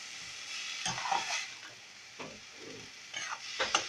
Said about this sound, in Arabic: هدبل بس البصله شويه